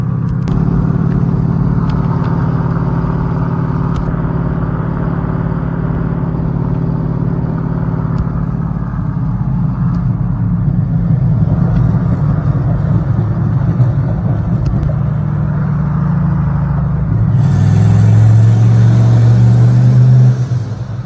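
A boosted Chevy Tahoe driving at night, its engine a steady loud drone inside the cabin that surges into a stronger, rising roar as it accelerates near the end.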